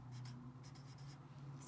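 Pencil writing a word of an acrostic poem on paper, several short scratchy strokes in quick bursts, faint and close, with no talking.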